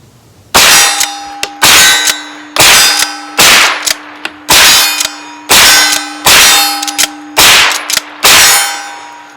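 Nine sharp shots from a 9mm POF Tombstone lever-action rifle with iron sights, each followed by a bright ringing clang from steel targets, evenly spaced about one second apart and loud, with no talking.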